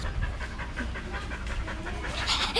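A dog at an animal shelter in Alor Setar pants in quick, steady, breathy bursts close to the microphone, with no talking over it.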